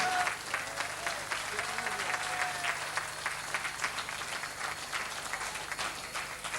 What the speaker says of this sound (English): I think Joe does deserve another round of applause